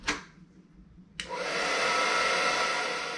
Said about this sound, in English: hair dryer on low